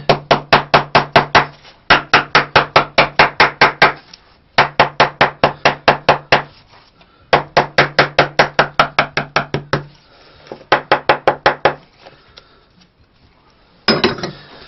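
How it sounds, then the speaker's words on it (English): Rapid bursts of hammer blows pounding down the glued lining of a women's pump shoe, in several runs of about ten quick strikes each with short pauses between, loud and close. "Take your hammer,"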